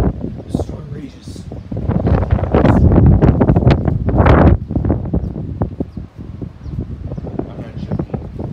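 Strong storm wind roars and buffets the microphone in loud, gusting bursts, rustling and whooshing, with a person speaking intermittently over it.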